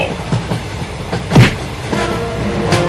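A cartoon train running along the rails, with rhythmic clickety-clack wheel beats, a louder clunk near the middle, and a steady rumbling undertone, alone without talk.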